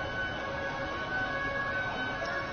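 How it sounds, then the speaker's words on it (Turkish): Emergency sirens wail continuously at the scene of a Barcelona terror attack in a crowded tourist district, where a van drove into the crowd and ambulances have arrived; the steady, loud wail fills the whole moment with no voices. "Siren seslerini duyuyorsunuz. Ambulanslar da olay yerine ulaştı."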